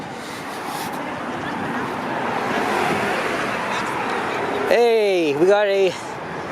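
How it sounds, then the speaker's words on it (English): A Toronto TTC NG diesel bus of the 8200 series passes along Lawrence Avenue West in North York. Its broad engine and road rumble swells and fades under outdoor wind noise, and then someone speaks close by. "NG diesel, probably an 8200 unit now"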